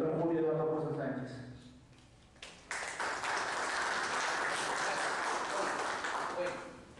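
An audience applauds a speaker at a seminar session on property law. Clapping breaks out abruptly after a voice trails off and then continues as a steady, fairly loud patter until it fades near the end.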